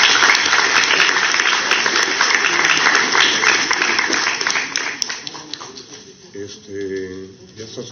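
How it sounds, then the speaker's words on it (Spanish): An audience at a public event on balance of powers and constitutional reform breaks into loud, sustained applause that thins and fades out, followed by a brief voice. "Nuevamente, un fuerte aplauso"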